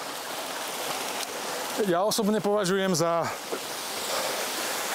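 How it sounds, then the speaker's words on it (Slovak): Water pours steadily down a waterfall with a ladder in the winter Piecky gorge of Slovak Paradise. The broad rushing wash is close and continuous, and someone talks over it for about a second and a half. "taký alebo najfotogenickejší vodopád s rebríkom v slovenskom raji"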